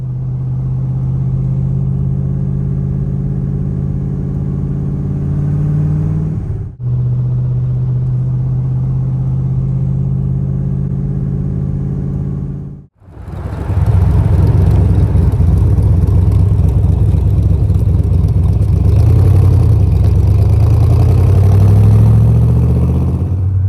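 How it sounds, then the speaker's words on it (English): A 1965 Corvette's engine drones steadily from inside the car, loud and close, cut by two brief drops, then a rougher, louder roar with rising pitch as it accelerates. "Not every day you get to ride in a 65 Corvette."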